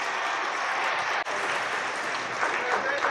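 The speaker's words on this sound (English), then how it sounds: "You can clap." Sustained applause from an audience at a leadership award celebration, a dense steady patter of many hands clapping throughout with a brief dip partway, sounding fairly close and full.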